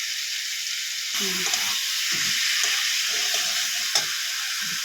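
Spiced masala with Kashmiri chilli sizzles and hisses steadily in a pan while being stirred for a rui fish curry, the frying growing louder after a quiet start and continuing close and constant.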